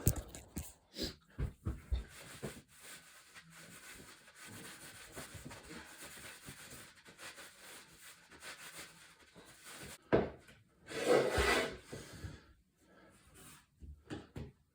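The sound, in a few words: sanding wood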